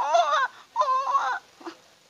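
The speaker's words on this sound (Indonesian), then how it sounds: "Oh, itu suara seorang bayi." An infant's cry in a staged folk tale, two wailing bursts followed by a short whimper, loud and close with no other sound.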